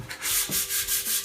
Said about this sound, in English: first coat and our first round of sanding